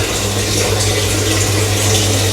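A shower runs in a mosque washroom, producing a loud, steady, close hiss of spraying water with a constant low hum underneath, with no break and no voices.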